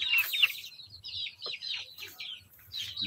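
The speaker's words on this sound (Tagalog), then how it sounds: "Ito na mga manok natin ano." Chickens cluck and call close by, in short raspy bursts repeating through the moment, with a low background hum beneath them.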